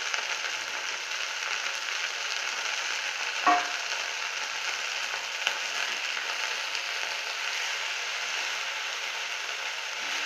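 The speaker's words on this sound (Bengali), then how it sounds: "এটা ভালো করে ভাজতে হবে।" Drumstick flowers fry in a pan with a steady, moderate sizzling hiss and one brief scrape of stirring, no voices.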